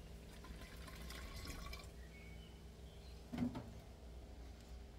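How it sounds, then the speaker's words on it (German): Fresh water poured into empty plastic ketchup bottles to rinse them clean, a faint continuous trickle and splash with a brief louder slosh near the end, heard alone without speech. "Hier fülle ich natürlich ein wenig mit Frischwasser auf, damit die dann richtig schön sauber wird"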